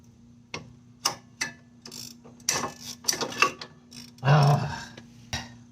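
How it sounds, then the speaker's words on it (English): A ratchet wrench turning off a worn end link stud on a 2012 Fiat 500, held with a vise grip; a string of sharp metallic clicks and short ratcheting bursts, close up, with a longer grinding spin near the end. "I'm wrenching it off with the ratchet"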